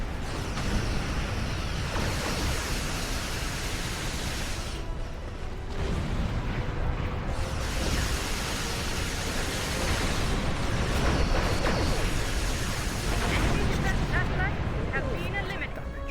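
Sustained weapons fire and explosions from a Star Trek Online space battle against defense satellites, a dense continuous roar of blasts and booms that runs throughout at steady loudness.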